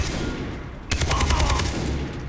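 A rapid burst of automatic gunfire from the video game Far Cry 3 opens up after about a second of background rumble, its shots hammering in quick succession and staying loud to the end.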